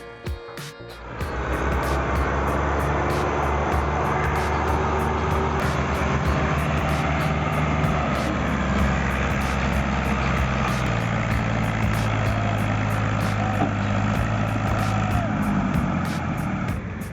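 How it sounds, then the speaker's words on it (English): A Belarus tractor engine strains steadily as it pulls through mud, a loud continuous low rumble with sustained heavy load, starting after a brief quieter moment and holding nearly unchanged throughout, with a voice talking over it. "The Belarus tractor is pulling with all its might, tugging left and right in every possible way"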